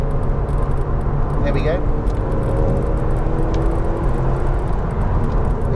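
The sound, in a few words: Porsche 968 Club Sport engine accelerating while overtaking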